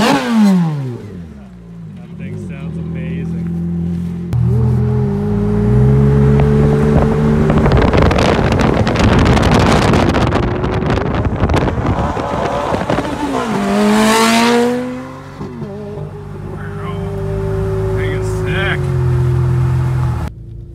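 A Ford F150 on snow tires moves along a snowy, snowed-out neighborhood road, its engine rising and falling through gear changes, loud and close, with wind buffeting and people talking inside.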